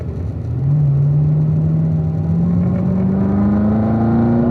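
A car on a track engine drones steadily and loudly, pitch climbing gradually after a downshift into third gear, with a rumbling, whirring tone and no voices.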